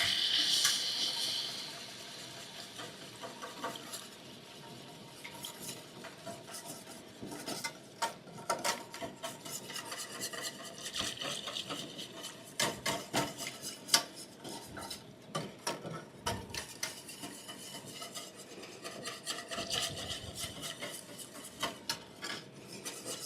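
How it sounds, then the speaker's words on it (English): Chicken gravy being whisked in a pan, with a steady scraping, rasping rhythm of the whisk against metal and occasional clinks, close and fairly quiet, with no talking. "as we add that, we're just gonna keep whisking, getting it all melded together nicely"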